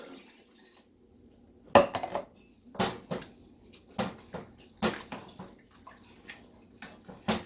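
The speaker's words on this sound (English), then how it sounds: "And we're going to add 2 cups of water." Two cups of water pour into a large pot of tomato soup with crushed tomatoes, heard as several separate splashing bursts with clinks of cookware between them in a quiet kitchen.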